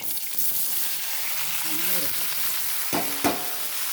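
Coriander seeds frying in a pan with coffee powder, a steady close sizzle with occasional stirring scrapes, and a voice briefly audible underneath.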